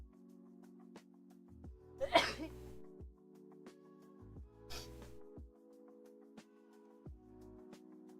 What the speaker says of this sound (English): Sorry for the sneezes and the coughs.